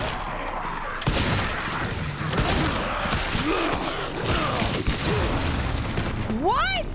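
Dense, chaotic gunfire bursts mix with booming explosions in continuous loud bombardment, ending with rising whistling sweeps.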